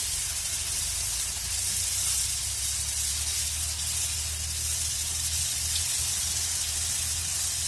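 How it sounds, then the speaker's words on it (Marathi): Water splashed onto a hot griddle under a pumpkin dhapate flatbread set in oil gives off a steady, loud, broadband hiss of steam that holds evenly for several seconds. "आणि असं पाणी टाकू म्हणजे धपटे एकदम मस्त असे"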